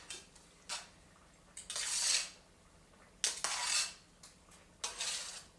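Browned vegetables tossed in a pan with turkey oven mitts give several rattling, scraping clatters of metal and food in bursts, close and moderately loud, separated by quiet pauses and no talk.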